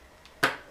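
A CPU socket retention lever on a motherboard being pressed down for an i9 9900K processor, giving one short, sharp click close by, alone, with a faint softer tick just before it.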